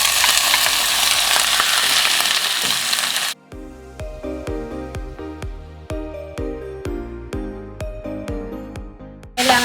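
Pork and onion for laing hit hot oil in a pan and sizzle loudly and steadily for about three seconds, then the frying cuts off abruptly and a plucked melody takes over.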